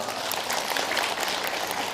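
Audience members at a religious study gathering clap for about two seconds, a dense, even patter of hands with only faint voices beneath.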